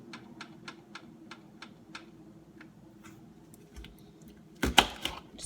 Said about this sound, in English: right now, I'm going to set my oven